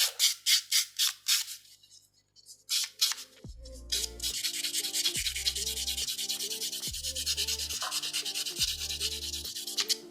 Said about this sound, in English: Let's give it a buff.